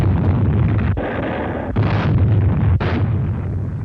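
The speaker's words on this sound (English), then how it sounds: "Mount Suribachi, which dominated the island, was a prime target for Navy gunners." Navy guns shelling Mount Suribachi on Iwo Jima in 1945: a loud, continuous barrage of heavy booms and rumbling blasts, broken by a few sharp new detonations, with no talk.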